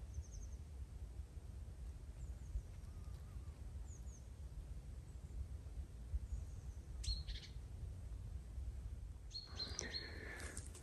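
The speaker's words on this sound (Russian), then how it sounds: "Птички поют," Faint, scattered bird chirps and calls sound in a birch forest over a soft outdoor rumble, with a brighter burst of chirping near the end.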